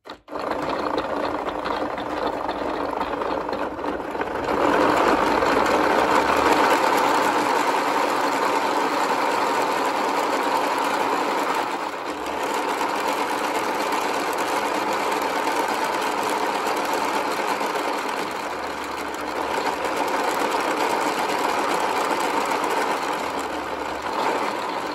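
A wooden speedometer mechanism runs on a test run with a continuous clattering, whirring rattle like a small machine, fairly loud and steady for the whole span with slight changes in intensity and no talking.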